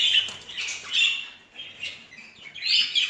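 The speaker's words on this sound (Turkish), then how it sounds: "buradaki kuşlar bunlar muhabbet kuşları mı?" Small budgerigars chirp and chatter in rapid, high squeaky bursts, several birds calling close by in a bird shop, with no talking.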